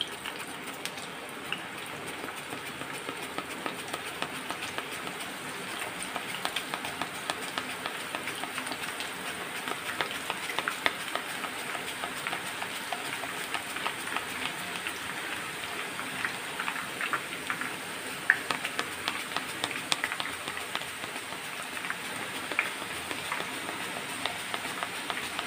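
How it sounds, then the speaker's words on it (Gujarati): Banana slices frying in hot oil for wafers, a dense, steady crackling sizzle that runs continuously at moderate volume throughout. "તો એ જ રીતના આપણે બીજા કેળાને પણ આ રીતના ડાયરેક્ટ આપણે તેલમાં પાડી લઈશું"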